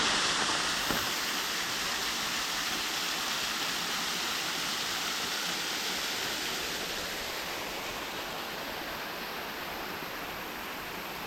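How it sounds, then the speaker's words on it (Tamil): Mangalam Falls in the Pachamalai hills roars as a dense, continuous rush of falling water, loud and steady throughout with no voices over it. "அருவி சவுண்டு கேட்குதுங்க"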